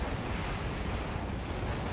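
A Tokamak Reactor building explodes in the real-time strategy game Act of Aggression, a loud, dense, rumbling blast that stays steady for the full two seconds.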